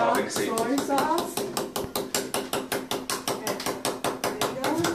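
Rapid, steady pounding, a rhythmic series of sharp thuds that speeds up into an even, quick beat, loud and close.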